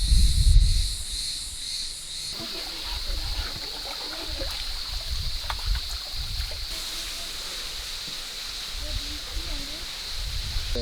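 Cicadas in the Greek countryside keep up a continuous high, shrill buzzing drone through the whole stretch, with soft outdoor background noise and occasional low rumbles beneath it.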